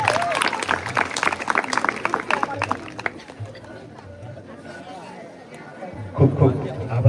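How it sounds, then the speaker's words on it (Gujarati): An audience at a school function claps to welcome the school principal, a dense burst of applause and chatter that fades into quieter murmuring, with talk over it. "આપણે તાળીઓના ગડગડાટથી સાહેબશ્રીને વધાવી લઈશું."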